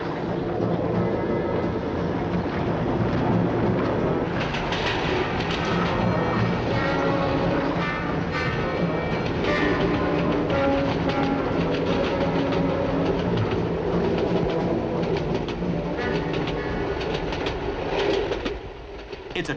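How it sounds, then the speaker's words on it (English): Midland Pullman express, a luxury diesel train powered by two 1,000-horsepower engines on the London to Manchester run through Derbyshire, rumbling steadily and loudly with a continuous clattering rhythm of wheels on rails throughout. "This is the Midland Pullman, one of the expresses that is helping to give the railways their new image."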